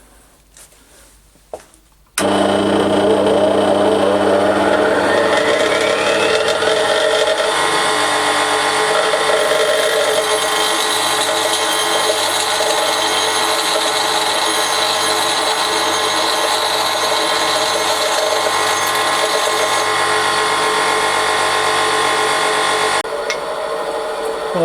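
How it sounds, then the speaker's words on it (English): A bench grinder roughs out a three-flute Morse taper drill, a steady loud whine running continuously for over twenty seconds after a brief quiet start, with grinding contact noise layered on top. "I'm going to rough it out on the bench grinder before I take it over to the greenstone on the milling machine"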